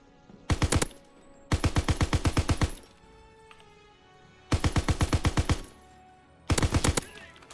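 A Call of Duty WW2 chain gun fires in four loud, rapid bursts, each a tight rattle of evenly spaced shots separated by short pauses, with faint game ambience between.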